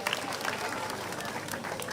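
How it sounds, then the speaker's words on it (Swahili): Applause from an audience at a community gathering honouring the Gaitheri Gatito Women Group, a steady wash of many hands clapping close by and fairly loud for the whole stretch, with some crowd noise mixed in. "Makofi tuwapigie makofi"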